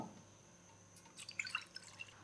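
Leftover chicken cooking water poured into a bowl while making chicken mandi, faint soft splashing and a few scattered drips after a quiet start, with no talk.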